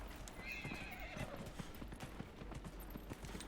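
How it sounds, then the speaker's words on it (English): Horse hooves clip-clop in a steady rhythm in the Dragon Age Inquisition video game, with a horse's whinny rising early on, all fairly quiet and even throughout. "Let's get our horse and go back to Dennet"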